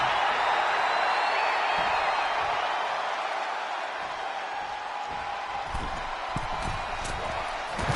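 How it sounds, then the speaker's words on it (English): A loud, dense roar from a wrestling arena crowd in the WWE 2K22 video game fills the whole stretch, with scattered thumps and bangs from the ring coming through toward the end. "The sound of this crowd is deafening"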